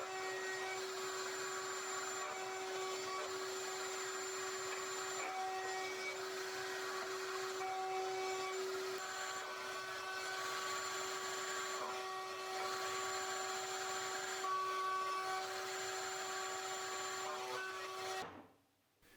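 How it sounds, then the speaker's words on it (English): A router table with a 2mm roundover bit spins at a steady high whine, cutting intermittently as wooden drawer corners are rounded over, ending abruptly when the motor stops. "round over those corners with a 2mm roundover bit at the router table"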